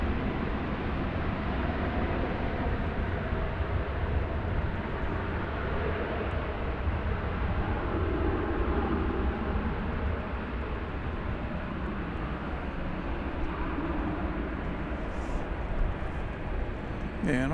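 American Airlines Boeing 737-800 arriving at DFW Airport from Tampa, a steady broadband jet roar holding level for the whole stretch with faint wind and outdoor background beneath it.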